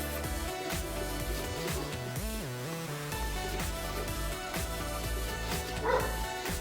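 Several dogs bark and yip repeatedly in the background over a steady engine-like drone, a mix of sharper barks and higher whiny yelps.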